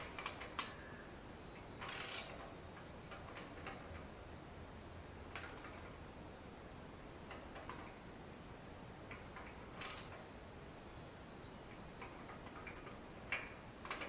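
A wrench slowly tightening a valve lash adjusting nut on a 1966 Mustang engine during assembly gives sparse, faint metallic ticks and clicks at irregular intervals, close by and quiet, with no talking.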